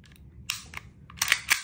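Hammer mechanism of a VFC Sig Sauer P226 airsoft pistol with a plastic lower frame, giving a few sharp, close mechanical clicks and snaps, with a quiet gap before a final cluster of crisp clicks.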